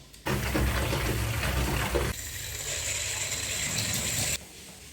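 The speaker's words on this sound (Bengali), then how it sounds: "তো চলো এবারে আমি জল ভরে নিই।" Water runs hard from a tap into a container: a loud, steady rushing that starts abruptly, shifts to a thinner hiss partway through, and cuts off near the end.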